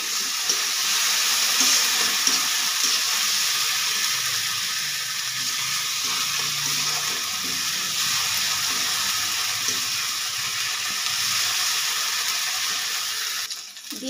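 A paste of cumin and dried chili fries in a pan for a carp curry, giving a continuous even sizzle close by with faint stirring noises.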